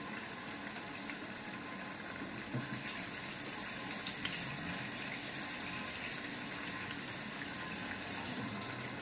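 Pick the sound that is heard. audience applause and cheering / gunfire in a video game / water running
water running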